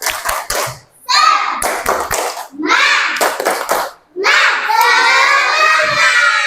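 A classroom of Indonesian children performs a tepuk semangat clapping chant, loud bursts of rhythmic claps alternating with shouted sung phrases, stopping briefly between sections before a final sustained group shout.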